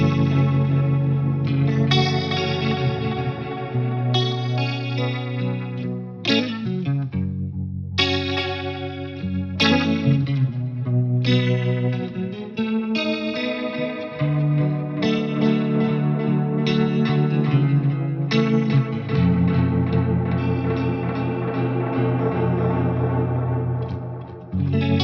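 Guitar through automated chorus and distortion plugin effects, a continuous, loud, thick swirling tone with shifting, funky phrasing and echoing tails, no voices.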